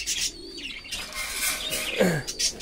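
Racing club pigeons and their chicks make nearby coos and soft chirps in short bursts, with faint wing rustles between calls.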